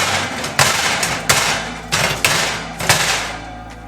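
A pan of cookie dough is banged against a metal oven tray, giving five or six loud, sharp metallic bangs at a fairly regular rhythm, each ringing briefly before the next.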